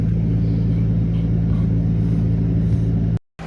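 A car engine runs steadily with a low, constant rumble and hum after being started, close by and loud, before cutting out briefly at the very end.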